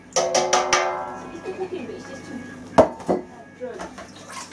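A pan being rinsed under tap water while homebrewing ale, with a few ringing metallic clanks and knocks of the pan followed by softer sloshing and handling sounds.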